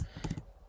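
A few quick computer keyboard keystrokes typing a git cd command, a short cluster of close, soft clicks in quiet surroundings.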